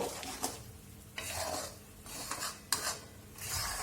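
Adadiya pak mixture is slowly stirred in a pan over a low flame, giving a close, soft scraping and rustling with a faint sizzle, in several strokes with brief pauses between them.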